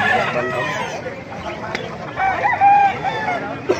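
Rooster crowing close by in a long drawn-out call, with people talking in the background.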